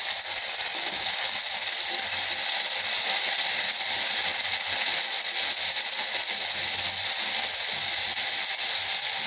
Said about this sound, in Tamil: நல்லா வதங்கட்டுங்க. இப்போ அப்படியே அந்த தக்காளி போட்டுடலாங்க.